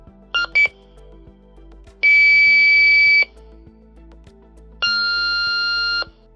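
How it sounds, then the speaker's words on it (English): A Starlink alarm communicator radio emits three electronic handshake tones: two quick short beeps, then two longer steady tones of about a second each, clear and prominent against a quiet background. "you want to verify your radio generates the 3 handshakes"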